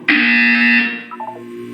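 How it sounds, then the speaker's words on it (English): A loud electronic buzzer sounds in the Portal 2 video game, one harsh sustained tone cutting off abruptly, followed by a few faint short tonal blips. "When you hear the buzzer, look down at the floor"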